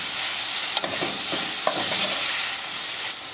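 Bacon frying in its own fat in a pan, a loud close sizzle broken by a few clacks and scrapes of a utensil stirring it, no speech.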